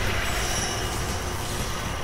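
A train in a video game rumbles steadily past, a dense, continuous rolling roar with faint squealing wheels and no voices over it.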